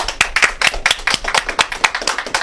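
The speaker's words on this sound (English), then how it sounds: "please give a big round of applause to Joel Solomon and to Robert Fausch" A small audience claps for two authors at a book event, the hand claps sharp, separate and fairly close, loosely rhythmic like a modest group applauding.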